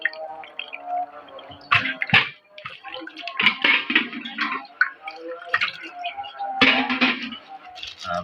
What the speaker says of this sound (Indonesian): Nah, ini buangnya kita cuci dulu.